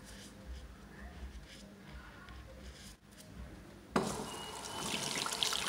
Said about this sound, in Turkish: Elimi yıkayınca bakalım.